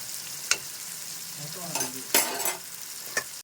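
Pieces of spiny gourd frying in oil in a covered pan give a low steady sizzle with sharp spits and crackles scattered through, a few louder pops standing out, and no talking.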